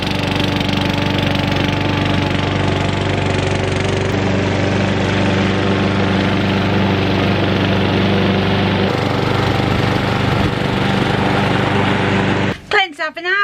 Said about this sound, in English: It's a really nice lawnmower.